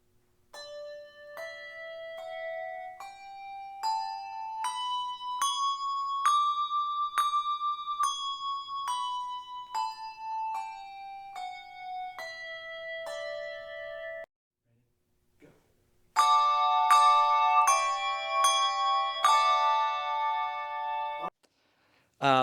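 Clear, bright handbells ring a rising and falling run of single tones, then after a short pause several bells chime together in chords.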